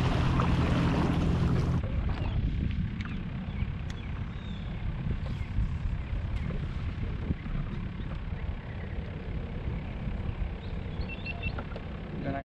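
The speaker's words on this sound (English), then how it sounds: "put the motor down and you're ready to go." Minn Kota electric trolling motor pushing an Old Town Sportsman 106 kayak across open water, a steady low hum with water and wind noise, preceded by a brief louder burst at the start.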